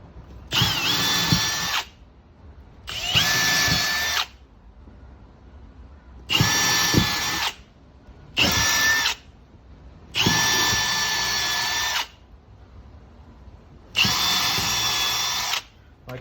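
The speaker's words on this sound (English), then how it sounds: "finish the drilling with the shroud off" Power drill boring holes in a wall to mount a water filter shroud: six loud whirring bursts of one to two seconds each, separated by short pauses, close up with no talking.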